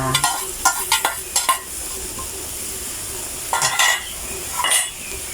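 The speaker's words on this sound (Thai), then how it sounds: "แล้วก็ใส่พริกลงไปเลยนะคะ พริกหยวกกับพริกจินดา" Chopped bell pepper and small chili peppers stir-fried with chicken offal in a hot pan, a steady sizzle broken by several quick scraping stirs and clinks of a spatula against the pan.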